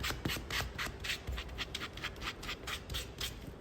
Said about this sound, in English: cut out a little bit with an X-Acto knife, and then I'll sand